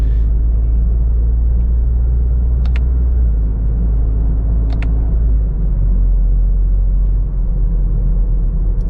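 A 2025 Toyota GR Corolla with an automatic transmission cruises in a high gear, giving a steady, loud low engine rumble with road noise throughout. Two brief faint ticks stand out over the drone.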